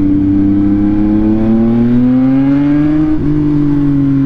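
Yamaha MT-09 motorcycle engine running steadily while riding, a loud continuous drone with a smooth rise in pitch and a brief dip near the end, close and alone with no talk.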